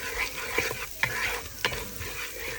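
Chillies sizzle and fry in hot oil in a pan, with a steady crackling hiss broken by several sharp scrapes and clinks of a spoon stirring against the metal, all fairly close and free of talk.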